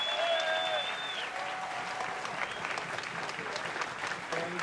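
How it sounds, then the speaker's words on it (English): A crowd at a kinetic sculpture race event applauds the race's founder, sustained clapping mixed with cheers and whoops, some whistles and voices early on, holding steady throughout. "can we have a big round of applause for our great founder?"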